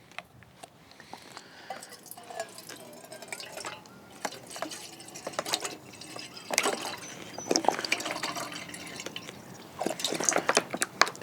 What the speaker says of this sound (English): I'm going to add my water in here